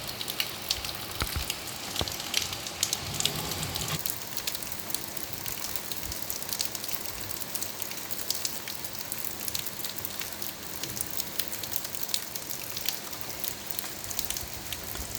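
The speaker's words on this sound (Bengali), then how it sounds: "কি সুন্দর বৃষ্টি হচ্ছে বাইরে" Rain falls steadily outside near a bakul tree, a continuous even hiss of drops with occasional louder patters, no talking.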